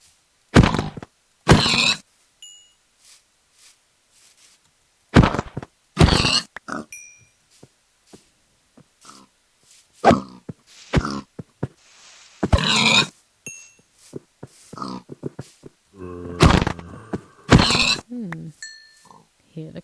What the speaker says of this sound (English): Hear the cries of the undead.